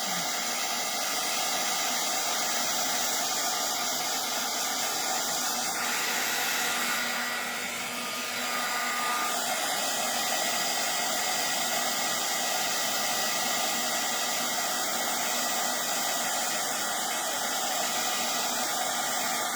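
A heat tool blows steadily on embossing powder, a loud continuous close whooshing hiss that runs without a break and shifts slightly midway, with no talking.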